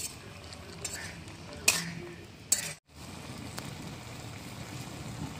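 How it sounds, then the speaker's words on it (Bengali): Ginger and radhuni paste being stirred into a simmering fish curry with potato and thankuni leaves, a steady scraping and bubbling close up, with a couple of sharper utensil clinks and a brief pause. "এবার আমি দিয়ে দেবো বেটে রাখা আদা ও রাঁধুনি। এবার ভালো করে মিশিয়ে দেবো।"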